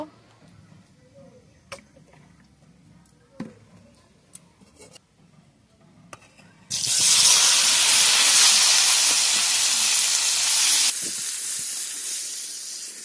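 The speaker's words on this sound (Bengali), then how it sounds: "কড়াইতে তেল দিয়ে আমি মানকচুটা ভালো করে কষিয়ে নেব।" After a few quiet clinks and taps, a sudden loud sizzling hiss erupts as chunks of giant taro hit hot oil in a wok, continuing strongly before easing slightly.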